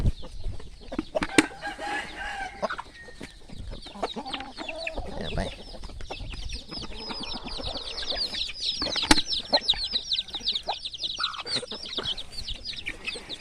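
A flock of chickens, small and large birds, clucks and calls continuously nearby, with a brief flutter of wings among the layered bird sounds.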